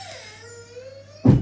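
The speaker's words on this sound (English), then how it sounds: "you can hear my baby crying because my son has annoyed him" A baby cries with a short, thin wail that falls in pitch and ends in a louder burst, heard indoors against a low steady hum, with no talk.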